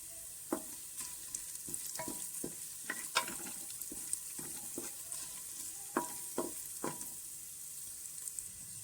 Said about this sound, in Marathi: आलं लसूण छान परतल्याच्या नंतर आपण याच्यामध्ये हळद घालून घेऊ।